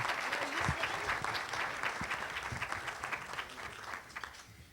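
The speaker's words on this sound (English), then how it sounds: "Give him a round of applause" An audience at a Democratic Illinois attorney general debate claps steadily in a large room, a sustained roomful of applause that slowly tapers, with a few voices underneath.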